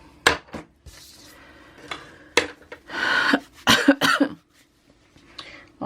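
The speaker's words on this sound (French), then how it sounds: "je vais tousser un petit peu sur cette vidéo" A few short coughs close by, scattered between light clinks of dishes and rubbing sounds, with quiet gaps in between.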